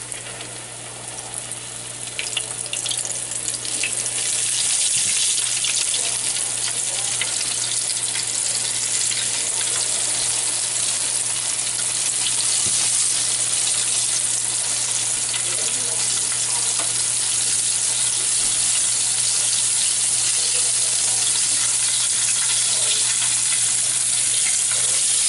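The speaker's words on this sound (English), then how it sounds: "Take a little bit of your flour and just put it in the grease and see how it sizzles" A loud, continuous sizzle of chicken frying in hot grease crackles steadily throughout, with no voices.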